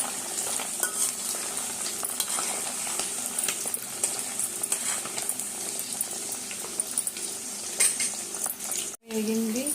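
Prawns fry in peanut oil for a pickle, a steady, fairly loud sizzle with bubbling, stirring and clinks of a spoon against the pan, briefly interrupted near the end.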